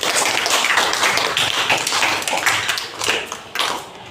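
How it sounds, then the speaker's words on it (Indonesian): A classroom of students claps together in a loud, continuous burst of applause, close and dense, thinning briefly before a final flurry near the end; no talk. "kita berikan tepuk tangan untuk kegiatan kita pada hari ini"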